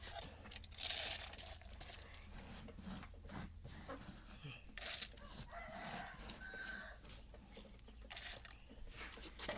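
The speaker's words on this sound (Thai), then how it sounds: "มันมีทั้งไก่ทั้งเป็ด" Chickens and ducks kept together in a rural pen, with scattered clucks and bursts of fowl calls standing out over rustling and crinkling noises, while someone talks intermittently nearby.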